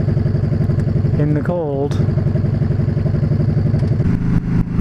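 A Yamaha V Star motorcycle engine runs at a low, thumpy idle on a cold morning with a steady throb, while someone talks over it and the engine sits close and loud.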